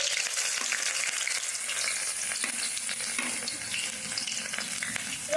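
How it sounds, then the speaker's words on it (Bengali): Chopped onion, green chili, ginger, garlic and capsicum sizzle steadily in hot oil for a chicken pasta, with a continuous close, loud frying hiss and scraping stirring throughout. "পেঁয়াজ কুচি লঙ্কা কুচি আদা কুচি রসুন কুচি নিয়েছি ভেজে নেব"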